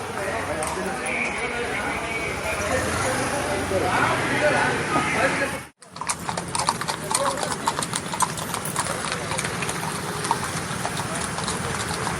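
Police horses clop along a city street in Hyderabad during a flag march patrol, a steady run of hoofbeats with an engine idling nearby and people talking throughout.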